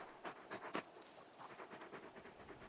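Torgal, a large dog in Final Fantasy XVI, pants in quick soft breaths, a few stronger huffs early then a steady faint rhythm, close by and quiet.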